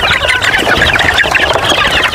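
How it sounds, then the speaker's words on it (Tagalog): Several SBR breed roosters and chickens cluck and squawk loudly and continuously up close in a breeder's flock. "Ayan, tandang to guys, SBR."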